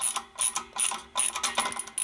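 A ratchet wrench with a socket turns a bolt on a 240V 7-1/2 hp Dayton air compressor, giving several quick bursts of close, crisp clicking separated by short pauses.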